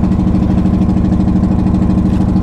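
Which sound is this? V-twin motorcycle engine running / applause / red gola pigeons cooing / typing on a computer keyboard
V-twin motorcycle engine running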